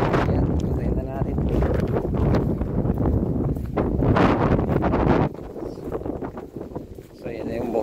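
Strong wind buffets a farm lot in Talugtog, Nueva Ecija, roaring continuously with loud rumbling gusts across the microphone while a person talks underneath.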